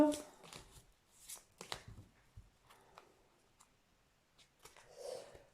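A deck of tarot cards is cut, giving soft papery riffles and slaps at close range, scattered in short bursts with quiet gaps.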